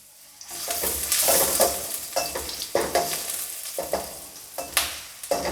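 Garlic and onion frying in a pan for chicken vegetable patties, with bright continuous sizzling close by, broken by repeated stirring scrapes and clinks in an uneven rhythm.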